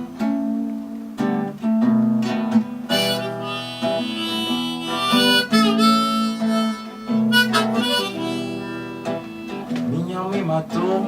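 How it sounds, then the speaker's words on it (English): Harmonica and guitar play a pentatonic, blues-like tune together, steady and close, with sustained reedy notes over plucked strums and no voices. "he's got his harmonica strapped, right in front of him, and also his guitar."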